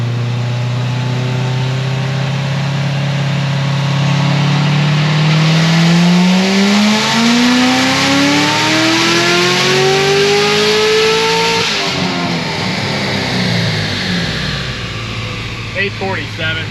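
A Corvette C7 Z06 engine climbs steadily through the revs in a long, loud dyno pull, pitch rising over about ten seconds before dropping off abruptly, with a steady rumble continuing afterward.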